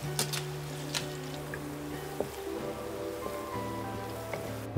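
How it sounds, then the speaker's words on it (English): Thinly sliced shallots frying in vegetable oil over medium heat, a steady close sizzle and crackle like light rain, with a faint background hum and no talking. "On medium heat, let's fry the thinly sliced shallots in vegetable oil."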